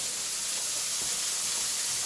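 A chopped onion sizzles in olive oil in a pan as the start of an Alfredo sauce, giving a steady, even hiss throughout.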